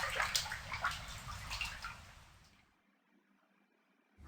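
Bath water sloshes and trickles in Corpse Party: Blood Drive, a soft, close washing sound that fades into near silence before a brief return at the end.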